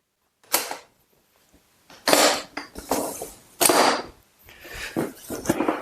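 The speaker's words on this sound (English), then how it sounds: "you're going to press these two things in on both sides. And it'll fold down." A Worx Pegasus folding worktable being collapsed, giving a few separate loud mechanical clacks and rattling clicks of its latches and legs, close by with short pauses between them.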